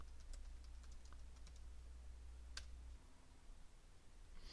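Quiet computer keyboard typing a short command, a brief run of light, close key clicks over low hum, then a single louder keystroke and a final click.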